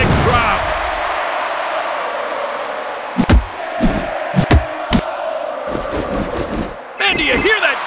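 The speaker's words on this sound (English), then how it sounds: "Man, do you hear that crowd?" Roaring crowd noise from a wrestling video game featuring The Authority with Triple H, Constable Corbin and Corporate Kane, a steady loud arena din punctuated by sharp slams and impacts, with a burst of louder cheering near the end.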